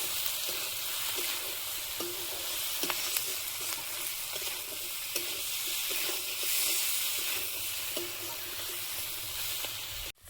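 Onion, tomato, green chili, salt and turmeric sizzling in a pan for chicken curry, a steady close hiss of frying with occasional light clinks and stirring, no voices.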